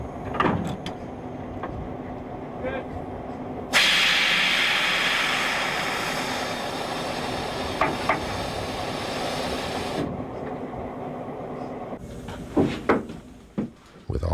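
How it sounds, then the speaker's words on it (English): Loud, sustained rush of air hisses from a railway snow plow's emergency brake valve during a test, starting abruptly, fading slightly over about six seconds, then cutting off amid rail-yard clanks. "the plow foreman is also required to make an emergency brake test using the plow's emergency valve"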